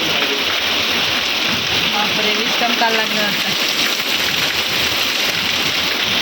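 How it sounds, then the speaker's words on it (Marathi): Steady rain hisses throughout, a dense even wash of falling water, while a person speaks briefly over it in the middle. "पण आता लागलाय पाऊस"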